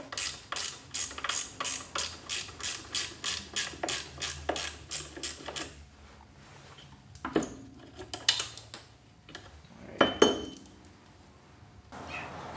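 A socket wrench ratchets steadily off the brake bracket on a 1988 Pontiac Fiero, a run of about a dozen quick, even clicking strokes, then a pause and a few scattered metallic clinks and knocks of parts being handled.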